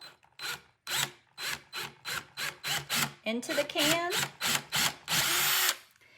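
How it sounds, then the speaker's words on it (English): A power drill whirs in a dozen short, steady bursts, one after another, as it bores holes into a thin metal can, with a person talking briefly between bursts. "I will continue doing this to all of the holes, drilling in."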